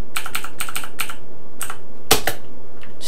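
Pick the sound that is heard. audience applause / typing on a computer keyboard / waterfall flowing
typing on a computer keyboard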